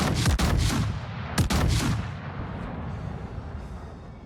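Heavy naval guns of the battleship Ohio boom in a video game, two loud close salvos about a second apart, each trailing into a long rumbling roar.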